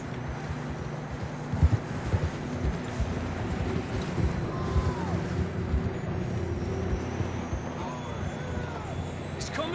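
Horses clip-clop over ground in Red Dead Redemption 2, a soft irregular patter of hooves under steady ambient noise, with people talking over it.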